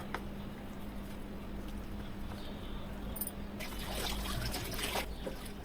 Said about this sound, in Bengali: সব উপকরণ একসাথে এখন ভালোভাবে মিশিয়ে নেব।